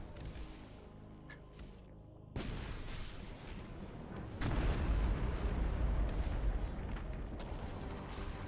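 An assault barrage fires in the space strategy game Battlefleet Gothic: Armada II: dense, roaring volleys of booming blasts swell in two sudden steps and keep rumbling without a break.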